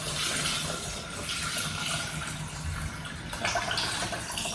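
About 1.25 litres of water poured into a Thermomix bowl for butternut orzotto, a steady close splashing and filling hiss that runs throughout, with a brief brighter surge near the end.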